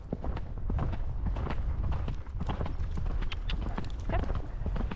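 A horse canters outdoors, its hooves thudding in a quick, steady three-beat rhythm close by, with creaks and rustles around the hoofbeats.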